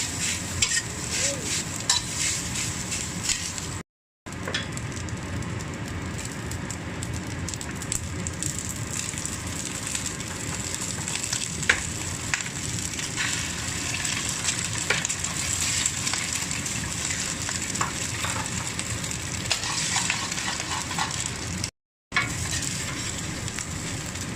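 Steady sizzling and scraping of rice being stir-fried over high heat in a hot wok, continuous and close, with no talking.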